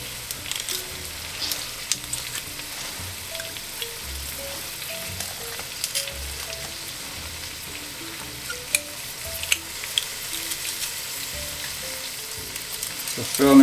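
Peppers, thyme and crushed garlic frying in a pan for mackerel rundown, a steady close sizzle with occasional stirring scrapes and clinks.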